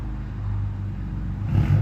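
A car engine with a full straight-pipe exhaust rumbles low and steady nearby, then swells louder near the end as the exhaust revs.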